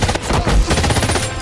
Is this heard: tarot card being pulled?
no